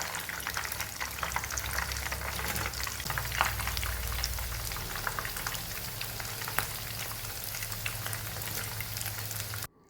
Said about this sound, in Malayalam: ഇതിലേക്കൊരു 3 തണ്ട് കറിവേപ്പില ഇതേപോലെ ഫ്രൈ ആക്കി എടുത്ത് വെക്കുന്നുണ്ട്.